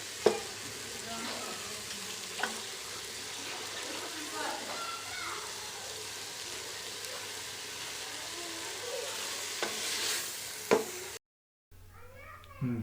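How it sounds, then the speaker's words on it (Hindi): Ingredients fry in oil in a pan with a continuous soft sizzle, punctuated by occasional sharp knocks and stirring clatter, close by and moderately quiet, cutting out briefly near the end. "ऑयल डालने के बाद इसको भूनेंगे अच्छी तरह से"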